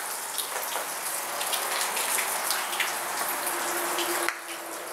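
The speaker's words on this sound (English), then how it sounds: "And there's water running." Water running and dripping steadily inside an abandoned high school building, a continuous close splashing patter like rain onto a wet surface, with a brief low tone and a slight drop in level near the end.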